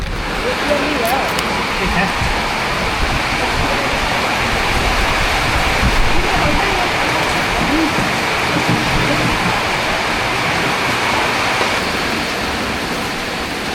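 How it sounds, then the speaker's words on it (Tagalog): Steady rain falling outdoors in Patna on a cool day, a dense continuous hiss that holds loud and even throughout, with a voice briefly heard beneath it. "Kasi umuulan."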